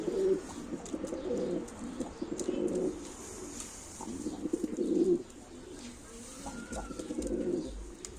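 Game pigeons coo in soft, repeated throaty rolls, several birds close by, with a steady murmur of cooing throughout and faint chirps in the background.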